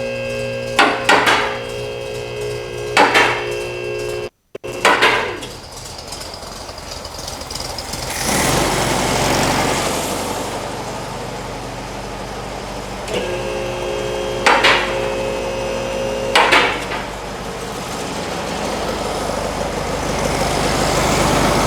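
Air-cooled engine of a 1957 Oval VW Beetle idling to warm up, a steady low running drone with several sharp knocking or tapping bursts in between, loud and close.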